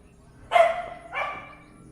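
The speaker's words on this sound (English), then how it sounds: "And that's Marianne barking out there, either Marianne or Hoppo." A dog barks outside in the Philippines, two sharp barks about half a second apart, the first louder, heard at moderate distance with no talk.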